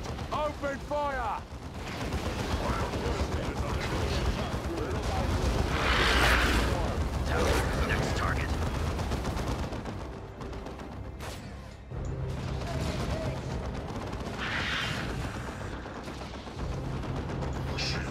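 Gunfire in the video game Warhammer 40k Dawn of War 2, a sustained clatter of shots and explosive bursts mixed with battle effects and short unit voice lines.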